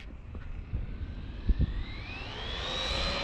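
Losi LMT RC monster truck driving under throttle, its electric motor whine rising steadily in pitch as it accelerates, with a few brief low thumps from the chassis early on, moderately close and with no talking.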